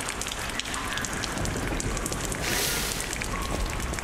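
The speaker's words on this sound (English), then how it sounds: "Krat Central Station, rainy night." Steady heavy rain falls at a train station on a night in the video game Lies of P, a dense, continuous patter and hiss of drops on hard surfaces that swells slightly midway, with no talking.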